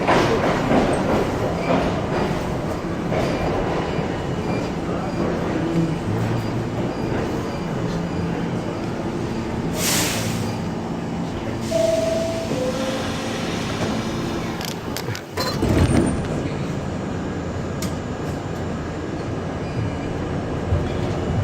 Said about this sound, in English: Actually, that's an A train, and that's the train I wanted to get ahead of this train.